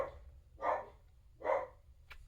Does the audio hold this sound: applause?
no